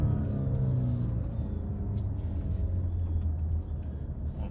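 Car traffic rumbles through a busy parking area in a low, continuous drone, with vehicle engine noise swelling and fading as cars pass nearby.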